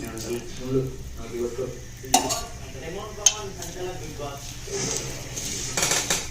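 Ground sunnundalu powder is mixed with ghee on a plate, giving soft rubbing and scraping with occasional sharp clinks against the plate, heard close up under a voice talking.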